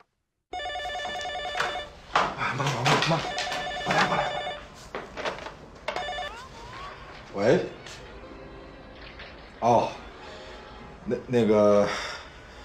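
A telephone rings indoors at home in repeated bursts, mixed with people talking nearby.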